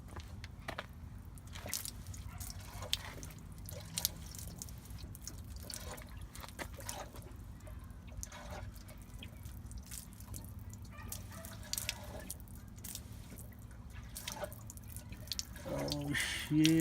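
Transmission fluid drains from a B18B1 transmission, a steady trickle with scattered drips pattering into a pan, close and fairly quiet throughout.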